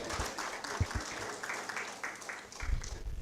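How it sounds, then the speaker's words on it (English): Audience applause at an annual general meeting, a dense wash of many hands clapping at moderate distance, steady throughout with a few louder claps near the start and end. "Please, let's clap for him. Let's clap."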